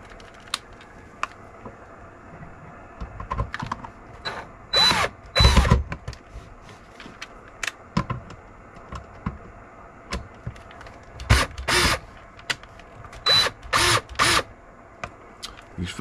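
Power driver setting fine threaded screws during a radio installation: short, loud whirring bursts come in pairs and clusters between quiet gaps, with small clicks and handling taps.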